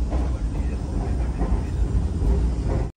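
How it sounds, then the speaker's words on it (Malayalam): A second train runs alongside the Vande Bharat Express, heard from on board as a loud, steady low rumble with continuous rolling rail noise filling the whole stretch. "ഇതൊരു ട്രെയിനും കൂടെ പോകുന്നുണ്ട്"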